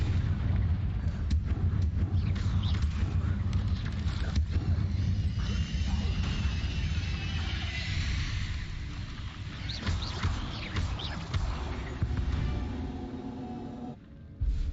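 Spell blasts from the Hogwarts Legacy video game: a dense, loud run of booming, explosive impacts and crackling magic bursts that roll continuously through combat, with no talk over them.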